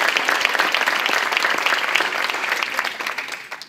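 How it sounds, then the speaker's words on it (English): Sustained applause fills a Christian church gathering for Pastor Salvador Sabino and Kenya Sabino, a dense, steady wash of many hands clapping that tapers slightly toward the end. "Let's give them a great round of applause for their leadership"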